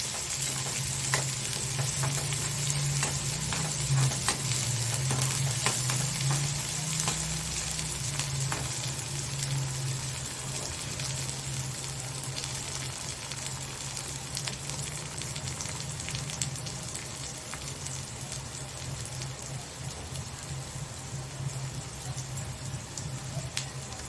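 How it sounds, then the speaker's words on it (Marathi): Onions sizzle and fry steadily in a pan for an egg curry, a continuous close crackling hiss with no talk. "हा कांदा व्यवस्थित आपण पोळून घेणार आहोत याच्यामध्ये"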